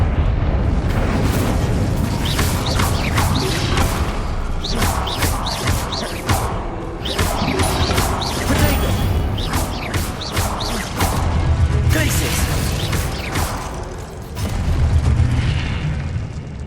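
Incendio fire spells erupt in repeated booming bursts during a Hogwarts Legacy duel, layered with crashing combat effects and dense low rumble that stays loud and continuous throughout.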